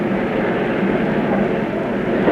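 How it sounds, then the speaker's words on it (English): US Navy military jets, including F-4s and A-6s, run their engines on an aircraft carrier deck in 1967, a loud, steady broadband roar that fills the whole stretch without letup. "Stand by to start the F4s, the A6s, the A1, and the A3."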